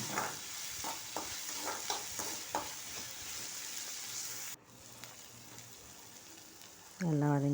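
Tomatoes sautéing in a pan for Tamil-style tomato thokku, a steady hiss of frying with soft stirring scrapes, a brief hush midway, then a louder burst of sizzle near the end; no talk.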